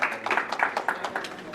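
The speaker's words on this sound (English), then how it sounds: "Let's hear it by applause if you've ever flown Basic Economy." An audience at a comedy show in a VFW post hall in Wasilla, Alaska bursts into brief applause, a quick flurry of overlapping hand claps lasting under two seconds, close and clear.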